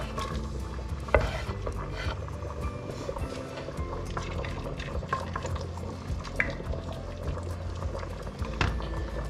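Garlic sizzles in olive oil in a pan for a pasta dish, giving a continuous soft frying crackle with stirring scrapes and a few sharper clinks, fairly close and fairly quiet, with no talking.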